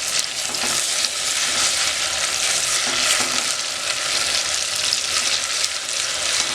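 Garlic ginger paste fries in a pan with onions, giving a steady, close, bright sizzle with soft stirring scrapes throughout and no talking.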